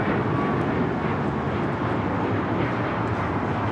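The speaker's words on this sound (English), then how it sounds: "That is United Airlines 1621 taking off to Orlando, Florida on the MAX 8" A United Airlines Boeing 737 MAX 8 taking off at Los Angeles airport, heard as a loud, steady, broadband jet roar with no breaks, rumbling continuously for the few seconds.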